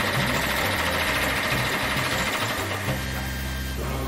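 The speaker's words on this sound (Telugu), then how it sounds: "సరే సరే, వెంటనే ఇంజిన్ స్టార్ట్ చేయండి." Water pump engine running during a flood, a steady close mechanical drone with a slight knocking rumble that dips briefly near the end.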